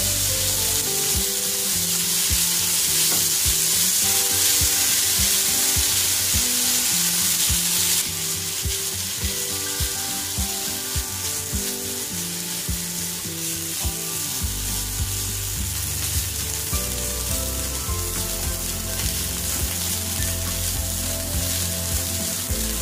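Cauliflower rice frying in a flat pan on high heat, a continuous loud hissing sizzle close by, with repeated scraping and stirring strokes of a spatula and small clatters against the pan.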